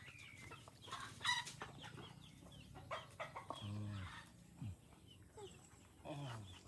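A hen clucks among her chicks on a Philippine farm, short clucks and peeps scattered through the clip, mixed with rooster and fowl sounds and people talking nearby.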